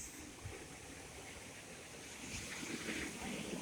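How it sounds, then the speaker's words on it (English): Ocean surf rolls at Kaanapali in West Maui, a faint, broad wash of waves that builds slightly over several seconds, heard from a distance with no talking. "Did you hear the sound of the flow of the water in the ocean? Very strong."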